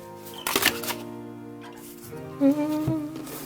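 A French-inspired tarot deck gets shuffled in a few brisk riffling bursts, soft papery flutters close by over a quiet background tone.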